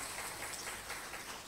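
Applause from an audience at a university communication-arts orientation event, a dense, even patter of many hands clapping at moderate distance, steady throughout without voices on top.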